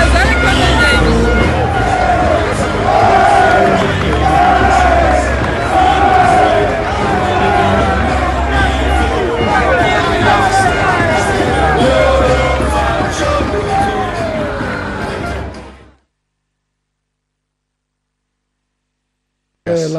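A huge crowd of football fans packs a Serie B stadium, a loud sustained roar of voices and chanting that fills the space evenly before cutting abruptly to silence near the end.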